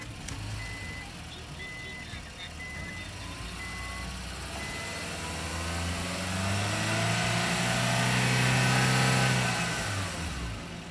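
A Honda Fit Hybrid engine runs close by, rising into a louder rev toward the end, while a series of short electronic beeps sounds during the first few seconds.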